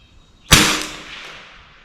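A single sharp rifle shot from a refinished, scoped BSA Century target rifle, loud and close, cracking out after a quiet moment and then trailing off in a short echoing decay.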